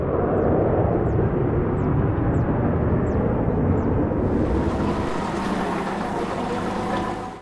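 A Danish F-16 fighter jet roaring with a loud, steady, broadband rush that holds for several seconds, close and powerful, with a few faint chirps early on and no speech.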